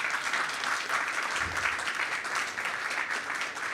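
Audience members at a COP28 panel session give the guests a short round of applause: steady, even clapping from a moderate-sized crowd that lasts a few seconds.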